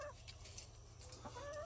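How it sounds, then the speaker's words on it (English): Chickens cluck faintly in the background, a few soft, scattered calls over a low, steady hum, distant and quiet throughout. "Dad went out and bought a bunch of chickens"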